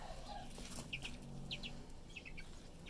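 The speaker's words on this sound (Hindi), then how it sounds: "बस अब इस मुर्गी को निकाल देते हैं।" A backyard hen gives a few short, soft clucks and chirps in scattered pairs over a steady low background hum, fairly faint and without talk.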